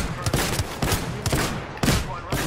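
Bursts of automatic gunfire in the video game Apex Legends, several short volleys in quick rhythm, close and loud amid a chaotic firefight.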